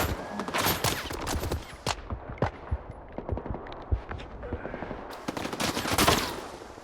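Rapid gunfire in the shooter game STALKER, with dense bursts of automatic shots and a few single cracks, loud and close, trailing off into quieter scattered shots before another burst.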